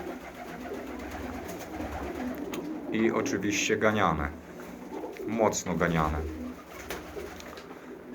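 Budapest pigeons cooing in a loft, soft throaty coos rising in two bursts amid background murmurs, with someone talking over them.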